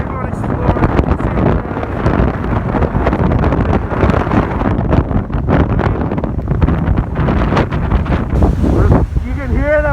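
Strong, steady gusts buffet the microphone at a small bay beach, a dense roar of wind noise with faint surf beneath and brief talk near the end.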